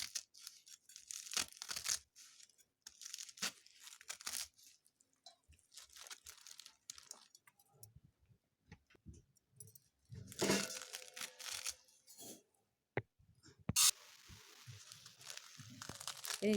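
A knife repeatedly chops through fresh radish greens on a board, giving crisp, uneven crunching strokes in scattered bursts with brief pauses between them.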